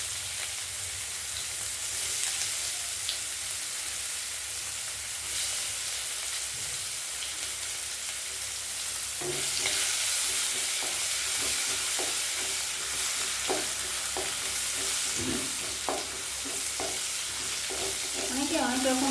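Chopped onion hitting hot oil in a pan, a continuous hissing fry that grows busier and crackly partway through, with stirring scrapes; no voices.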